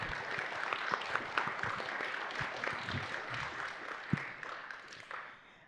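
An audience at a panel discussion on Florida's nursing workforce claps. The applause is a dense, continuous patter of many hands, moderately loud and steady, then tapers off toward the end.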